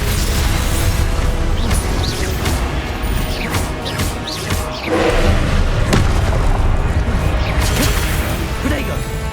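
A fire spell from the Hogwarts Legacy video game goes off again and again amid booms, crashes and whooshes of combat, loud and busy throughout.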